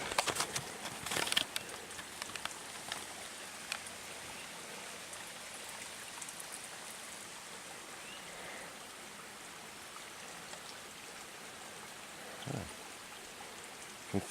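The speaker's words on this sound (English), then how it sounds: "You can see the rain hitting the pond." Rain falling on a pond along a hiking trail near caves and cliffs, a soft, steady patter with scattered drops and occasional faint bird calls, distant and quiet.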